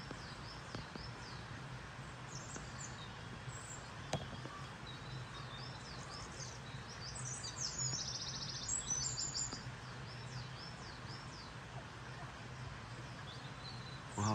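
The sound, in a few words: spring birds singing outdoors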